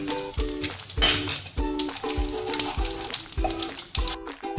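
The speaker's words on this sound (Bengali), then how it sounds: "এইবারে ফোড়নটা দিয়ে দিলাম কালো জিরে সাদা জিরে লঙ্কা" Black cumin, cumin and chilli sizzle in hot oil in a pan after fish has been fried, with a steady frying hiss and repeated metallic clinks and scrapes of a utensil against the pan.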